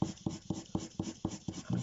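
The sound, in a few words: soft pencil drawing lines on paper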